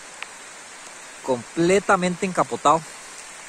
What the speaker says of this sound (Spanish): bueno, ya se nos ha venido la lluvia.